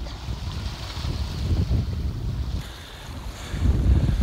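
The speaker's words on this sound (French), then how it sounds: "Encore un peu rafaleux ici." Gusty wind buffeting the microphone with a low rumble, rising and falling in surges over rushing water, loud and continuous, on a sailing boat at sea in the Dodecanese, Greece.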